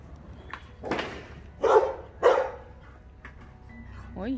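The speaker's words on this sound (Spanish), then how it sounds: "Uy, está violento el perro." An aggressive dog barks in a few loud, close bursts outdoors in a rural village, with quieter yips around them and a whimpering sound at the end.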